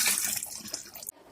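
Water scooped up with a splashy, gurgling rush that stops abruptly just after one second, heard close and fairly loud.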